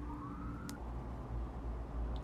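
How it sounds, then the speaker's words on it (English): A siren wails faintly in the distance beneath a loud, steady low rumble, its sweeping tone only briefly rising above the background. "so y'all hear the sirens"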